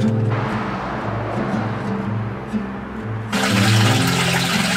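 Water runs steadily from a petrol station tap into a camper van's tank, a continuous rushing fill over a low rumbling background that grows louder and brighter partway through.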